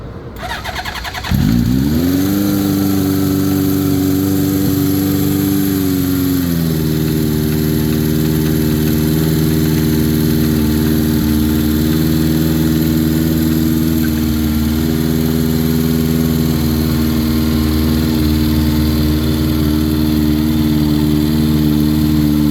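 A Honda CB750 motorcycle, choke pulled, cranks and catches on a cold start, then settles into a steady, loud, close idle that drops slightly in pitch after a few seconds and holds for the rest of the stretch, with no talking.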